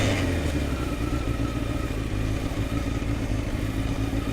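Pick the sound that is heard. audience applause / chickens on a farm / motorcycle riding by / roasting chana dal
motorcycle riding by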